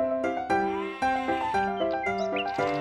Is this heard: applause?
no